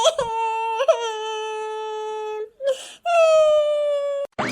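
A woman wails and cries loudly at close range in a long, drawn-out moaning tone that rises and falls, with a couple of breaks for breath, then resumes.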